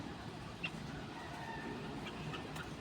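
Faint chickens and a rooster outdoors, brief clucks and calls scattered over a steady low background rumble.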